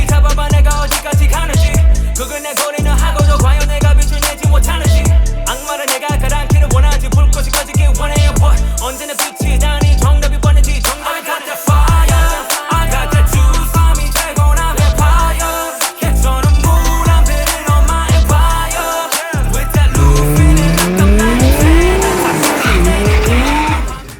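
A turbocharged drag race car with a diesel or 2GZ engine of around 900 to 1000 horsepower roars loudly and continuously, revving hard with repeated throttle blips, backfire-like pops and rising acceleration near the end.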